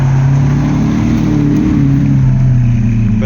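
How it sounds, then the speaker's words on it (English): A Lamborghini Aventador supercar pulls up at a rainy London car meet, its engine a loud, close, continuous growl with a slight rise and fall in revs. "We got the Aventador just pulled up."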